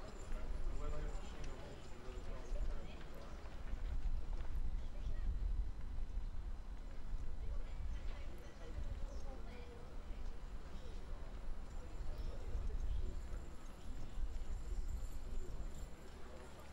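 Heavy horses such as Shires and Clydesdales move around the Grand Ring at the Royal Norfolk Show, their hooves thudding steadily on the ground while a commentator speaks over the steady outdoor crowd ambience.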